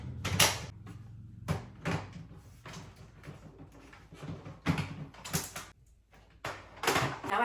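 Parts of a wet-dry vacuum being fitted back together after a deep cleaning, giving a series of sharp plastic clicks, snaps and knocks in irregular bursts, close and fairly loud, with no talking.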